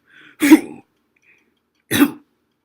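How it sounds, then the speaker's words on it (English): Two separate throat clears, close and short, with a silent gap between them. "Clear my throat."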